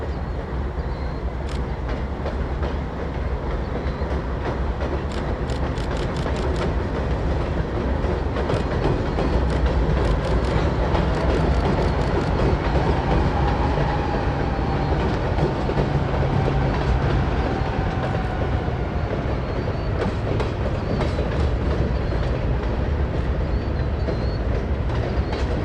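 A classic passenger train rolls past at West Quincy on its way into the yard, a steady loud rumble with rhythmic clickety-clack of wheels over rail joints lasting throughout.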